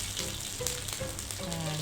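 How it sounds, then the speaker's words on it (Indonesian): Spice paste sautéing in oil in a wok, a loud, continuous close sizzle with faint scraping stirs. "Kita tumis sampai dia wangi."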